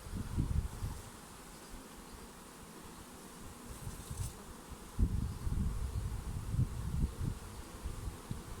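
A honeybee swarm buzzes around a hive in a dense, continuous drone, fairly faint and distant, with closer bees swelling past now and then outdoors.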